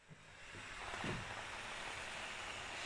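A steady broadband hiss of spinach sizzling and drying in a hot pan, continuous and fairly quiet, with a brief soft scrape near the start.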